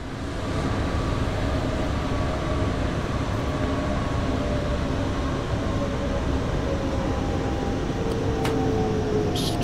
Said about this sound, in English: It sounds like an electric train.